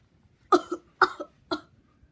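Three short, dry coughs in an even rhythm, close and clear against near silence.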